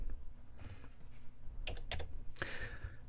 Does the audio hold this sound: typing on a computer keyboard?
yes